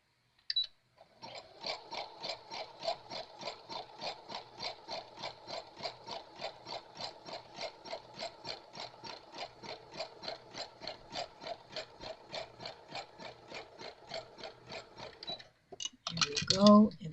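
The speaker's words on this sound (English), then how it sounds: "going to sew along the tops of them" A sewing machine stitches along the tops of colorful mixed textile pieces in a steady, fast run of rapid mechanical pulses lasting about fourteen seconds, close and moderately loud, then stopping abruptly before brief handling noise.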